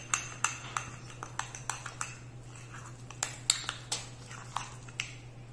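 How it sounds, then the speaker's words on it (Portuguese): Pork leg seasoning with garlic being mixed in a bowl, a steady run of sharp clinks from a utensil against the dish, close and regular, over a low constant hum. "agora é só misturar"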